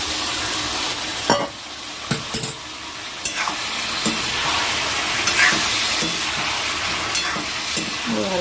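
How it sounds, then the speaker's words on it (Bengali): Boiled green jackfruit and potato are stir-fried in masala, a steady close sizzle broken by several scraping spatula strokes and clinks against the pan. "দিয়ে ভালো করে কষাতে হবে। কষানো হয়ে গেছে, সিদ্ধ করা এঁচোড় আর আলুটা দিয়ে দেবো।"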